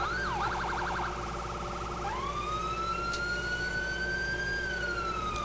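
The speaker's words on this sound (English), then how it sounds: "Siren." A police car siren in the video game GTA IV, wailing in quick warbles and then one long rising and falling tone, steady and prominent over a low engine hum.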